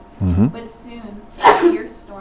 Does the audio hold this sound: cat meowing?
no